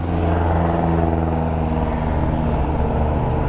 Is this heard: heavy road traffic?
yes